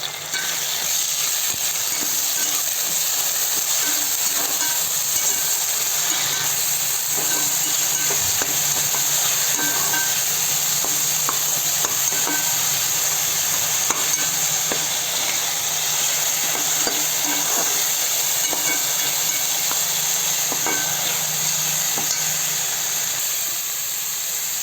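Goat head curry with ginger garlic paste frying in a pan, a steady loud sizzle and hiss running without a break, with faint stirring clinks scattered throughout.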